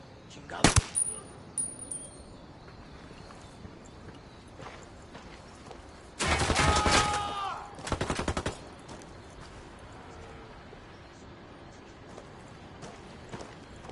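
Gunfire in the Ghost Recon: Wildlands video game: a lone sharp shot near the start, then a dense burst of rapid automatic fire followed by a few more quick shots, loud against a quiet backdrop.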